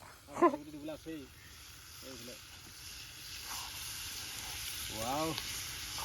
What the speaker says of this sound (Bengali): চৰুটো ইমান ডাঙৰ নহয় মানে উপচি পৰিছে আমাৰ মাংস